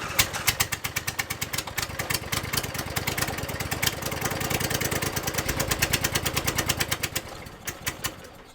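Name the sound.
engine struggling to run, not drawing gas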